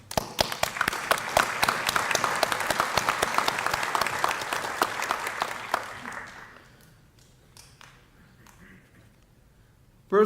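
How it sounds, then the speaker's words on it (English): Audience at a West Haven Vietnam-era veterans awards ceremony applauding steadily for about six seconds, then tapering to a few scattered claps before quiet. "I'd like to give him a round of applause"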